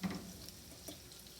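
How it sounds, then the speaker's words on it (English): Food sizzles in a pot beside a barbecue while a whole chicken with herbs and butter cooks, giving a steady, faint hiss with soft crackles and no talking. "I don't know if you can hear the sizzle or not."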